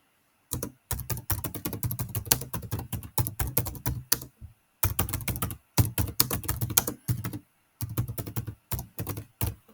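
Close, crisp typing on a computer keyboard comes in quick bursts of rapid clicking keystrokes, broken by short silent pauses.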